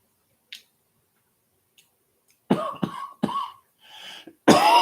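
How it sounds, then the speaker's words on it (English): A person coughs after smoking, close to the microphone. A faint tick breaks the quiet, then a cluster of harsh coughs and throat-clearing follows, ending in one loud cough. "every tea I take, it makes me cough"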